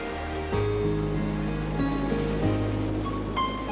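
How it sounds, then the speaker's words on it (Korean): Rough waves break and wash over a tropical beach in Vietnam, a continuous surf roar with a sustained musical tone playing over it. "때론 거친 파도로,"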